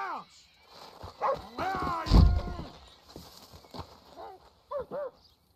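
Barking from a dog in Red Dead Redemption 2, heard among horse hooves and neighing from the game, with someone talking over much of it.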